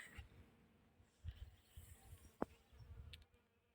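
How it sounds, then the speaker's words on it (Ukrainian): Bees buzz faintly around blooming peonies in a quiet garden, a soft intermittent hum drifting near and far with a brief sharper whine as one passes close. "Бджілки працюють."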